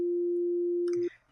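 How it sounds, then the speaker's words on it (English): A pure, steady electronic sine tone holds at one pitch for about a second, then cuts off abruptly, leaving a faint rustle. "just another sine wave, but with higher frequency."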